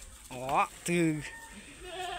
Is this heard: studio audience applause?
no